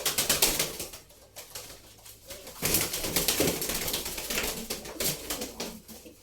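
Imported pigeons bred abroad in an Arab country cooing nearby, soft repeated coos with occasional wing flutters, no talking.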